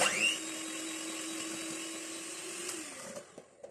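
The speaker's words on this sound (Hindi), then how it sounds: "इसको अब हम मजीद बीट कर लेते हैं।" An electric beater whipping butter with ground sugar gives a steady, close whirring drone that shifts slightly in pitch before winding down and stopping near the end.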